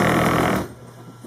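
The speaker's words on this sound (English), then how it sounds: "sewing it together on our sewing machine" A sewing machine whirs loudly and steadily, then cuts off abruptly into quiet room tone before a faint restart at the end.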